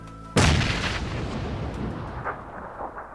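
A grenade detonates in a first-person shooter, a sudden loud blast that lands hard and then rolls off into a long, fading rumble, with no one talking over it.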